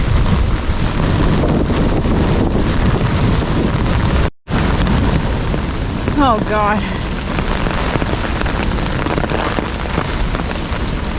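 Heavy rain pours onto an umbrella on the Appalachian Trail between Woody Gap and Neel Gap during a thunderstorm, a loud, continuous hiss. A voice briefly exclaims, and the sound drops out for a moment.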